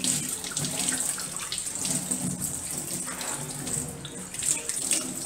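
Water runs steadily from a tap during handwashing, a continuous close hiss and splash with slight fluctuations throughout and no talk.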